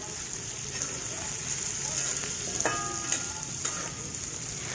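Sliced onion fries in hot oil in a pan for Tamil masala upma, a steady crackling sizzle with a few stirring scrapes and clinks, close by and without talk.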